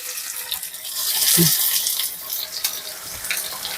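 Braised tofu sizzling in a pan, a steady hiss of hot oil with a brief clunk as a piece is flipped, close and fairly loud, with a faint voice murmuring.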